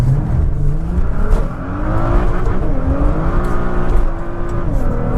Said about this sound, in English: Gonna spin around here. Power slide again.